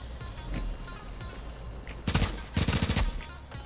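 Gunfire in The Division's Dark Zone: two short bursts of rapid automatic shots crackle up close near the end, following softer scattered pops and ambient game noise.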